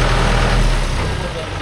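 A Mahindra tractor engine runs steadily up close, a heavy low diesel rumble with no breaks, from a Mahindra 575 working in a cage-wheel setup.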